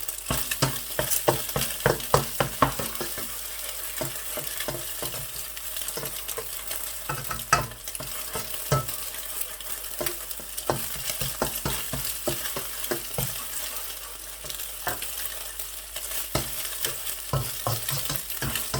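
Eggs fry in a hot pan for chicken fried rice, a steady sizzle running throughout with repeated close scraping stirs and spatula taps in an irregular rhythm, no voices.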